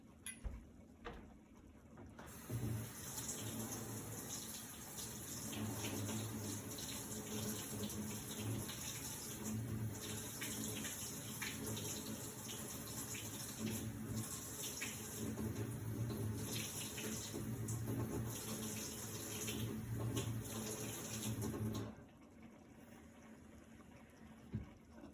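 Cold water runs from a kitchen tap for about 20 seconds, a steady close splashing stream that starts and stops abruptly, with faint quiet moments before and after.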